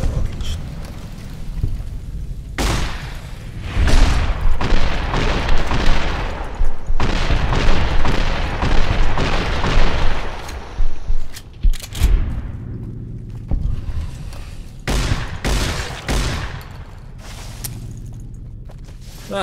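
Gunfire from the video game Fallout: New Vegas, a run of loud, sharp shots in bursts with gaps between them, over a steady low game background.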